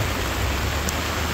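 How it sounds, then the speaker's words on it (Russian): Heavy downpour in Tashkent: dense, steady hiss of rain pouring down close by, broadband and unbroken for the whole stretch, with no voices over it. "Мы сюда вот так забрели и попали под этот ливень"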